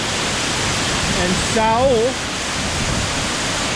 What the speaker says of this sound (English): This is yet another waterfall